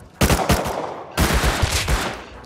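Bursts of automatic gunfire from a first-person shooter game, two loud rapid volleys separated by a short pause, close and dominant.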